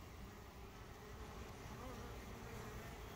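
Honey bees buzz around the top entrance of a hive, with guard bees present, making a faint, steady, continuous hum.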